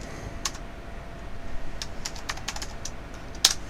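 Light, quick taps on a computer keyboard, a handful of soft separate keystrokes with short pauses between them, including a spacebar press, close and quiet with no talking.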